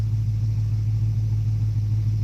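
Datsun 240Z with a valved exhaust idling steadily, a deep continuous rumble with no revving, close and constant throughout.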